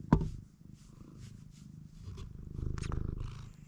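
A cat purrs softly and continuously up close in a garage workshop, a low rumbling motor-like drone that swells slightly toward the end, with a brief sharp knock at the start.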